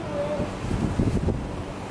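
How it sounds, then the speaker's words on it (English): Wind buffets a microphone in a steady low rumble on an outing in Turks and Caicos, with no other clear sounds. "It is windy right now."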